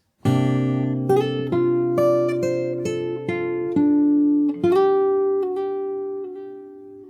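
Fingerstyle acoustic guitar plays the Animal Crossing New Horizons theme, a steady run of plucked notes and chords ringing clearly, close and solo with no voices.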